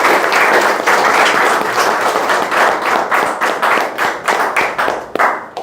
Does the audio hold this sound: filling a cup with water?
no